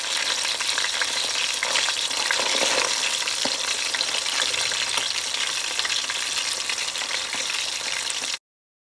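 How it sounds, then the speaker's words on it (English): Fish fillet and tail frying in a pan for a tomato stew, a loud, dense continuous sizzle and crackle with occasional stirring sounds, close up, ending abruptly. "Just before I combine all my ingredients, I fried fish fillet and tail."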